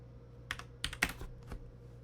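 Several quick keystrokes on a computer keyboard while typing code, a short burst of clicks of uneven loudness over a steady low hum, with no talking.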